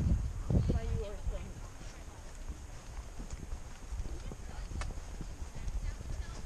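Horse hooves clip-clop along a trail in a loose, uneven rhythm, fairly faint and close, mixed with rustling and ambient outdoor noise; a brief voice-like sound occurs near the start.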